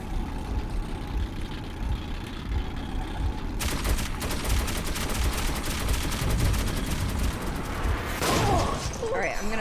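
Gunfire in the video game Metro 2033: low rumbling ambience, then sustained rapid automatic fire from about four seconds on, loud and close, ending in a louder burst, with a voice talking throughout.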